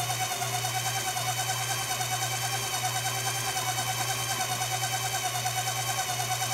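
Sandpaper of 3-aught grit on a buffing stick smooths a worn clock pivot, giving a steady, continuous mechanical whir with a faint low hum, even and unbroken throughout with no talking.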